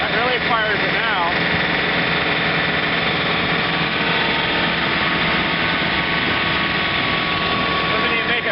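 A John Deere 110 tractor revved up to run a snow blower at 540 RPM, a loud, steady, close engine drone with a whining blower, unbroken for the whole stretch.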